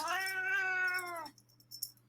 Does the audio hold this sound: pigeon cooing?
no